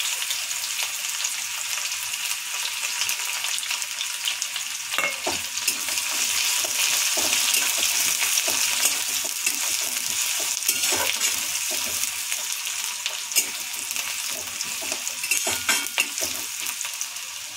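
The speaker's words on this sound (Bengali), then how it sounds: "এবার একটু জিরা সম্বরা, পেঁয়াজ কুচি, রসুন কুচি" Cumin seeds, chopped onion and garlic fry in hot oil for a drumstick-leaf dal, giving a steady, close, bright sizzle with irregular stirring scrapes and taps throughout, without talk.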